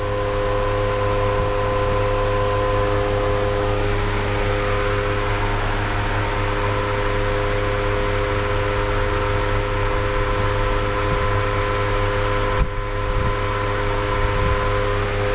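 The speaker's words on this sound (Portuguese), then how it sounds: "A marcha lenta está oscilando um pouco" Chevrolet Corsa 1.0 MPFI engine idling unevenly, a steady close-up hum with a low drone and faint wavering, continuing for about fifteen seconds with a brief click near the end.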